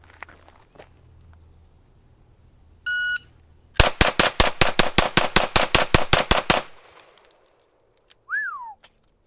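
A Smith & Wesson M&P M2.0 9mm long-slide pistol fires a fast string of about fifteen sharp, loud shots at an outdoor range, evenly spaced, followed by a short beep and brief whistle-like tone.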